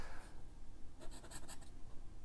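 Pilot Metropolitan fountain pen nib scratching across high-quality French paper, a faint cluster of quick strokes against a quiet hiss with no speech.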